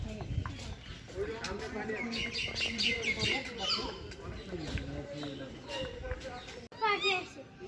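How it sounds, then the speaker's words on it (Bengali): Assorted birds call and chirp in a safari park, bright scattered tweets and squawks over a constant crowd murmur and background noise, with a brief drop near the end before the calls resume. "পাখি আছে, দেখছেন কত রকমের পাখি আওয়াজ"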